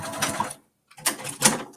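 A sewing machine stitches binding onto a mini-quilt in two close, loud bursts of rapid mechanical whirring separated by a brief pause.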